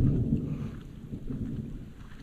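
Low distant thunder rolling outdoors near a picnic bench and small bridge, a steady dull rumble lasting the whole moment with no voices.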